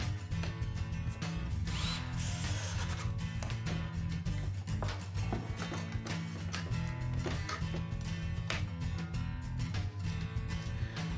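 A power drill bores holes through the heads of a homemade drum for a lathe thickness-sanding station, running in steady bursts with sharp ticks and whines, close and loud, without talk.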